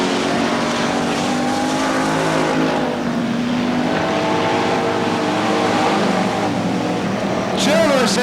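Race cars in a 1997 Budweiser Racing Series event at Bakersfield, California, duel off a turn with a steady, loud engine roar, while an announcer talks over the noise throughout.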